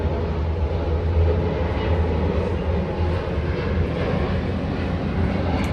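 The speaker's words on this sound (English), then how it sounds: "And there's a plane." A propeller or jet airplane passes overhead on a fine day above an apartment balcony, a loud, steady broadband roar with a low rumble that holds throughout, with no talking.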